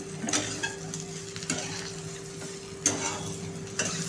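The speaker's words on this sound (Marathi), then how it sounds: "छान अशी मिक्स करायची" Potato bhaji seasoned with Kashmiri chili powder is stirred in a pan, soft scraping strokes of a spoon at irregular intervals over a quiet, low sizzle, close and fairly faint.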